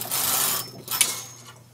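A Brother KH585 knitting machine carriage is pushed across the needle bed, making a loud whirring rattle that stops abruptly, then a sharp clack and a shorter mechanical burst.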